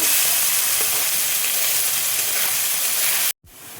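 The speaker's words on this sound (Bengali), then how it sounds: "পেঁয়াজটা দেখো লাল করে ভেজে নেব।" Chopped onions fry with curry leaves in a pan, making a loud, close, steady sizzle that cuts out abruptly near the end, then returns more softly.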